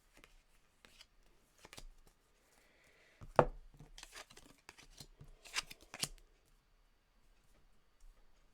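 Tarot cards being shuffled for a reading, a few soft riffling and slapping bursts close by, the loudest in the middle, with quiet gaps around them.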